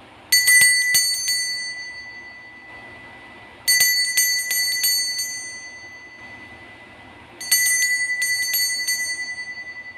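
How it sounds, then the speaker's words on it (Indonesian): Bell ringing in three separate bursts of bright, quick metallic dings, each fading out before the next begins, clear and alone without talk. "kita akan memulai dengan hasil ramalan ditandai lonceng berbunyi."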